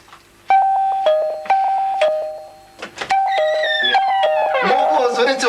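An electronic doorbell chimes repeatedly, a few bright tones in a row, then a voice starts talking over the last chime.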